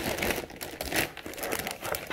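Packaging around PC gaming components, including an NVIDIA RTX graphics card, crinkles and rustles close by as it is handled and put back, with continuous crackling and no speech.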